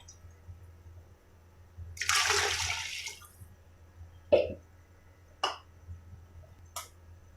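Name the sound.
pouring water into pot of rice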